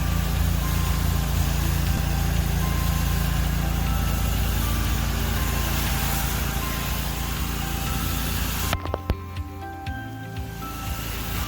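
Pressure washer spraying rinse water to wash off a Southern Draw cleaning solution, a steady loud engine-like roar with hiss that runs unbroken and then cuts off abruptly near the end, leaving a quieter background.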